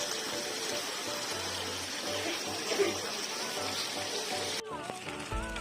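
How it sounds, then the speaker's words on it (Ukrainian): Cold spring water splashing and gushing into a container at an outdoor spring, a steady close rushing flow with faint voices in the background, ending in a sudden cut. "Все, ми вже набрали водичку."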